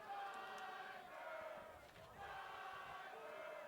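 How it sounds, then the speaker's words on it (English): Soccer match crowd yelling jeers in unison at a player for diving, a sustained chanting roar from the stands heard at a distance, dipping briefly midway before swelling again. "a crowd yelling diver."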